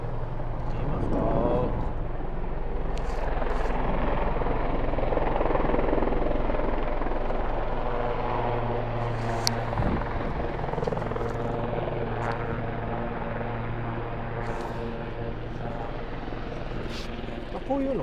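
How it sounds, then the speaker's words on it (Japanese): A helicopter lands nearby on a waterfront in Vancouver, a steady loud rotor and engine drone throughout, with someone talking over it. "後ろヘリコプターがちょうど着陸するところですんで"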